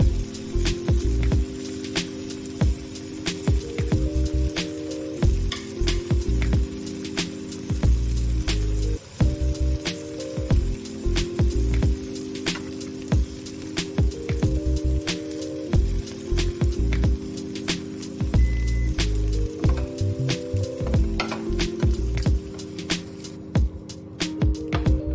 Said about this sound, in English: Flip the tofu pieces over to cook the other side.